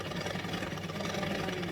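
A Tupperware food mixer runs at first speed, mixing brioche dough as a steady, continuous motor whir with no talk over it.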